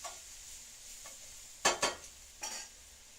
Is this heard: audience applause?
no